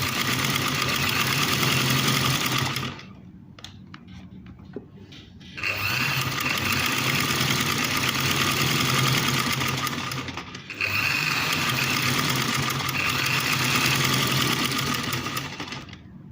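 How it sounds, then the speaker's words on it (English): A sewing machine runs a straight stitch along a pinned fabric seam, buzzing steadily in two close, loud bursts with a short pause between them and a brief dip near the end. No one talks. "So first I'm going to make a straight stitch."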